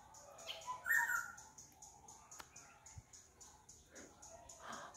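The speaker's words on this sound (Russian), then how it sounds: "Я думаю, кто тут поет? Вот она ты какая. Желтенькая." A small yellow bird sings near Buddha statues, giving short, faint chirps and call notes over quiet background sounds.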